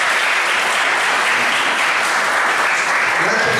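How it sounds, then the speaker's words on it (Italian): A dense, even burst of audience applause at a calendar presentation event, steady and loud from start to finish with no voices breaking through. "Un applauso a Luigi."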